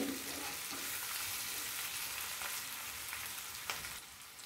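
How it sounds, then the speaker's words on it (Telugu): Chicken fry sizzles steadily in a pan while being stirred, a dense close hiss of frying oil with faint scraping from the stirring. "మొత్తం అంతా కూరను ఒకసారి ఇలా కలుపుకుందాం."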